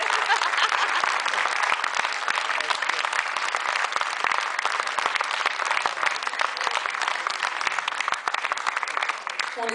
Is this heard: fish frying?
no